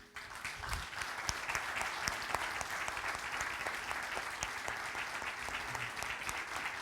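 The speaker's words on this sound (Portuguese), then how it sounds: "eu queria vos pedir que nós possamos aplaudir a Deus pela vida dela" A church congregation applauds in praise of God for a departed woman's life, a steady, dense wash of many hands clapping that carries on evenly throughout, moderately loud and without voices.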